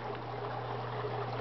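Aquaponics pump circulating water into grow beds while aerating it, a soft continuous gurgling flow over a steady low motor hum, unchanging through the short stretch with no voices.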